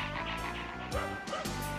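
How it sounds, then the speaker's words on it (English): A dog barks in the background of the Super Mario Bros Super Show cartoon, its yips buried under a dense, continuous mix of music and show sound. "I like the barking it sounds in the background."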